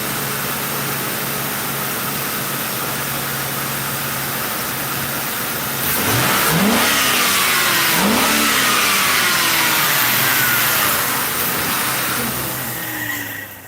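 A 1998–2011 Ford Crown Victoria engine, freshly fed carb cleaner during a spark plug change, idles steadily up close, then revs up sharply twice in loud rising bursts before settling back down.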